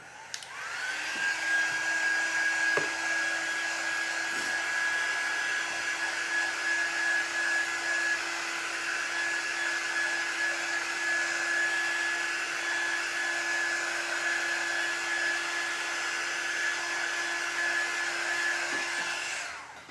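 A handheld hair dryer blows steadily for about twenty seconds, drying a paper lunch bag gingerbread house craft, with a loud, even whine and a constant tone running from start to finish and no talk.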